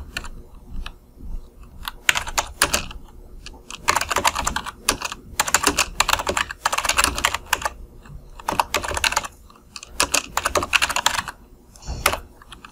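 Steady typing on a computer keyboard while entering code comments: quick bursts of close, crisp keystrokes with brief pauses between runs, and no talking over it.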